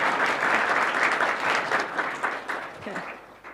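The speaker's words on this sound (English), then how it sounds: "Can we give Annabel a big round of applause?" Audience applause for a 16-year-old student speaker at a Python conference education track, a dense wash of clapping that stays steady and then thins and fades toward the end.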